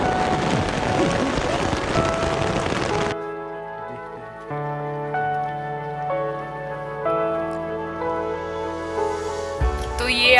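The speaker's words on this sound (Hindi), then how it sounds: "बाहर बहुत तेज बारिश हो रही है" Heavy rain falling outside, heard from indoors during a mountain trek: a dense hiss of pouring rain for about three seconds, then cut off, leaving a steady tonal hum with faint patter.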